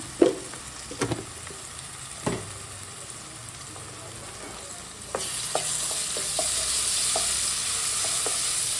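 Ginger-garlic paste and turmeric frying in a pan over cooked onions: a hiss that grows steadily louder after a few scattered scraping knocks of stirring.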